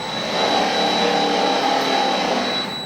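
A steady mechanical whir with a high whine and gritty grinding texture from the gear drive of a 500 lb RC wheel loader, continuous and fairly loud.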